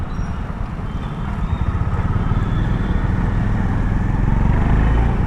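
A Honda CB350 motorcycle pulls away slowly in second gear with a close, low, rhythmic engine thump that builds gradually louder and steadier as it rolls off.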